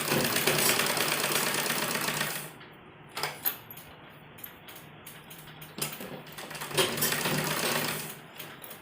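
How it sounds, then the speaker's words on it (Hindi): A sewing machine stitches a wide, heavy seam attaching fabric around a kurta neckline, running fast and steady at first, then stopping and restarting in shorter bursts of rapid mechanical clatter, close and clear. "सबसे पहले मोटी बखिया कर देंगे इस पर।"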